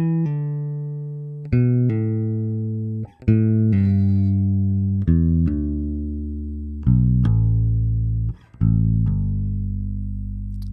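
Solo bass guitar pull-offs walk down a major pentatonic scale. Each pair of notes flows smoothly into the next, with small pauses between phrases and no voices over the playing.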